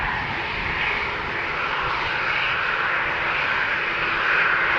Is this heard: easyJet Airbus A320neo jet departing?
yes